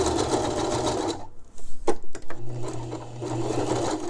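Sewing machine stitching shirring on a garment, a close rapid mechanical whir that runs, stops with a few clicks and knocks midway, then starts up again and keeps going.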